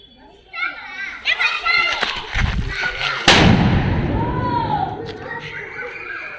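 A Classic Bomb firecracker goes off at a Diwali celebration with a single loud, sharp blast near the middle, and children chatter and shout before and after it.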